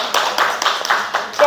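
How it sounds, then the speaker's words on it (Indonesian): Brief burst of clapping from a small audience at a teachers' dissemination event, a handful of hands beating in a loose, quick rhythm at close range. "Tepuk tangan dong untuk Pak Ade."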